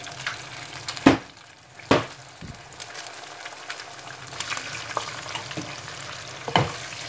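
Eggs being scrambled in a frying pan, a soft steady sizzle broken by several sharp scraping and knocking strokes of the utensil against the pan, close up with no talk.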